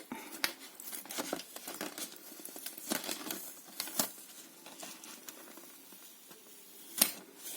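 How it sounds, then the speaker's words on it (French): Crinkly peeling and tearing of adhesive tape close up during card making, in irregular bursts with a few sharp snaps, no voices. "on enlève le scotch"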